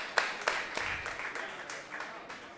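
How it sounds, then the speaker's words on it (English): Applause from a robot combat crowd after a 3lb final, scattered claps and a few sharp hand slaps over a soft murmur of cheering, fairly distant and fading slightly. "Give them a round of applause"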